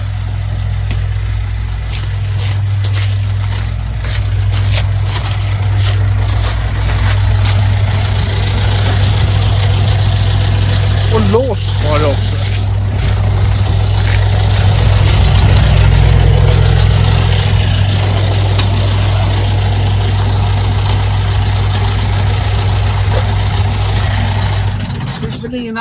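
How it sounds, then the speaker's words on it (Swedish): A tractor engine idles steadily close by, a continuous low rumbling drone throughout, with people talking over it. "Traktorjäveln står på och kostar pengar."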